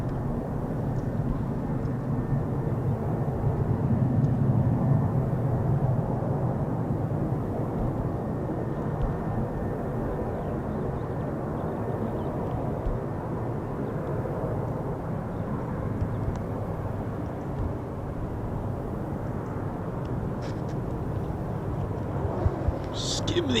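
A Lockheed F-35B stealth fighter running its engine on the ground at an RAF base, heard as a continuous low distant roar that holds steady throughout, with faint intermittent sounds on top.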